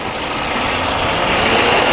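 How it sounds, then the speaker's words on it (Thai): A 2018 Toyota Yaris Ativ 1.2 J Eco automatic idles smoothly, giving a steady, even engine hum close by with no talking. "เครื่องเดิมนี้คือสตาร์ทเครื่องยนต์อยู่นะครับผม เครื่องเดินนิ่งมากนะครับ"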